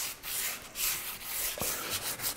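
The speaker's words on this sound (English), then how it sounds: "I'm gonna continue up and just sand the rest of the shaft and the grip" Hand sanding the varnished wooden shaft of a canoe paddle, a steady close scraping rub in repeated strokes with no talk.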